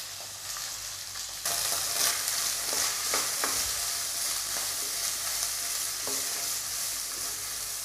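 Zucchini and potato pieces sauté in a hot pan, with a bright sizzle that jumps louder early on as food goes in, then continues steadily with scattered stirring clatters.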